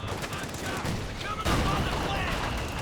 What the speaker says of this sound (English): As well as an incendiary barrage from the mortar half-track.